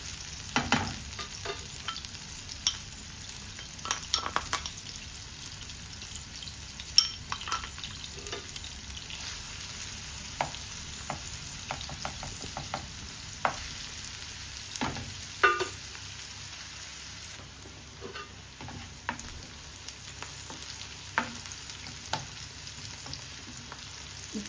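Onions soften in a pan with ginger garlic paste for a traditional khagina breakfast, giving a quiet steady sizzle broken by scattered clicks and scrapes of stirring, with no talking.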